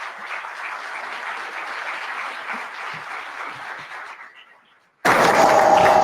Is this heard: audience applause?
yes